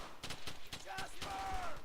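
Machine gun fire in the World War II shooter Brothers in Arms: Hell's Highway rattles in quick, faint bursts, mixed with shouting soldiers and game sounds in a short, busy stretch.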